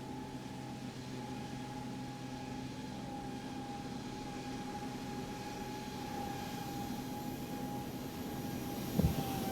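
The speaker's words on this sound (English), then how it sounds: "Oh, listen to those engines whining." Aircraft engines on a slow flyby near Oshkosh give a steady, sustained high whine over a broad roar, holding for the whole stretch and swelling slightly toward the end, with no talking.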